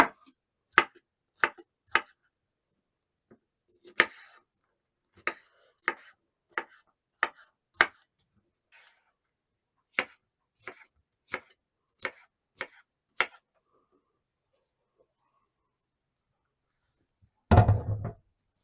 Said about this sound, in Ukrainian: Перець ділю навпіл і нарізаю крупними такими шматками.